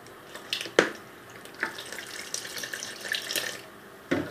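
Water splashing and trickling into a bowl of flour while mixing chapati dough at home, with a few sharper splashes and clinks over a steady wet background, close and moderately quiet, no talking.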